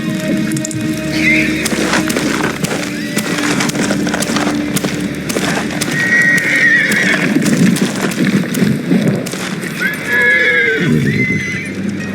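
A horse in a video game whinnies repeatedly over steady clip-clopping hooves, with rain pattering in the background throughout.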